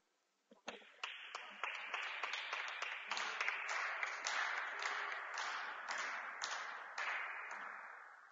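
Steady table tennis crowd applause at a cup final, starting abruptly and continuing throughout, dense and fairly loud with occasional sharper individual claps standing out.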